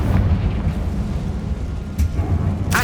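A Confringo fire spell bursts in Hogwarts Legacy inside a tomb, a loud sustained boom over rumbling low end, with sharp crackling bursts near the end.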